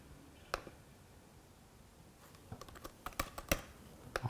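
Scattered keystrokes on a computer keyboard while entering network SSID details during an ELAN g1 control system setup, a single tap early, then a quicker run of clicks toward the end.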